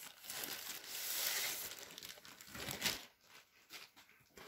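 Plastic or paper packaging of a parcel holding a small solar panel crinkles and tears, with dense rustling bursts that rise and fall, loudest around the middle, then settle into scattered quieter crackles.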